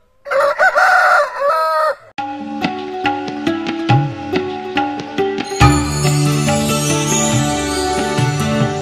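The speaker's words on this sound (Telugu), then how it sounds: "వంద పుంజులు ఉంటాయి" Roosters crow repeatedly on a country-chicken farm raising breeding cocks, loud and close, one long crow followed by rhythmic clucking and further overlapping crows from several birds.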